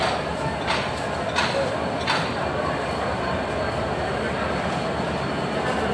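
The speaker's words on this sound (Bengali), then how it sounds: "এই হলো আমাদের ট্রেন।" A train pulls into platform 5 at a railway station with a steady, loud rumble. A few sharp clacks land in the first two seconds, and the noise holds evenly to the end.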